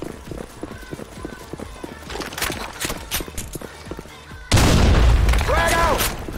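A grenade blast in the shooter game Blackshot on the Broken City map, a sudden loud boom that rumbles on for about two seconds after a stretch of busy gunfire and in-game voices.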